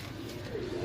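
A flock of about twenty young pigeons kept for sale gives a brief, low, throaty coo, close and moderately loud against a muffled background.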